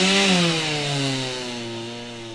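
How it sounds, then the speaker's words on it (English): Chainsaws cut through jumbled piles of storm-wrecked wood in rural Lee County near the Georgia state line, one engine loud and close, its whining pitch sliding lower as it bogs into the cut. "really the only sound was of chainsaws as residents and volunteers were cutting through jumbled piles of wood"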